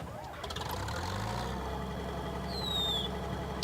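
A low tractor engine in Farming Simulator 19 rumbles steadily and rises slightly in pitch, with a faint high whine near the end; no talking.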